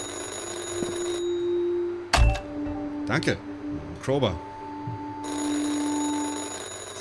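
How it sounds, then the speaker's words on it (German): In the horror video game Anthology of Fear, a landline telephone rings with a steady electronic trill that starts and stops over a game ambience, and someone speaks between the rings. "Telefon."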